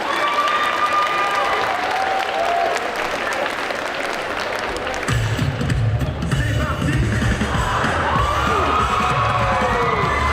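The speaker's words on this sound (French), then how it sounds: "Et on applaudit." A crowd at the Bordeaux Geekfest 2023 cosplay parade applauds and cheers with whoops and shrill shouts over loud, dense clapping, while booming music kicks in halfway and continues under the noise.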